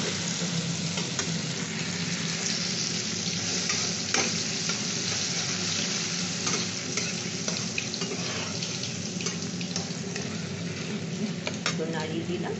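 Turmeric and ginger paste sizzling in a hot pan while being stirred, a steady, close frying hiss with faint scraping throughout and no talking.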